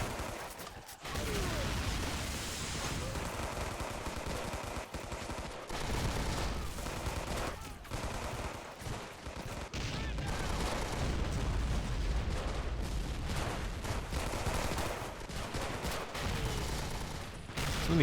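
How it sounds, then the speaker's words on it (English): Dense machine gun fire in the strategy game Men of War: Assault Squad during an Allied invasion of mainland Japan, with two guns cutting down US Marines. Continuous rattling bursts and booming battle noise run loud throughout. "2 machine guns in here, though, cutting down most of the US Marines who get in that range"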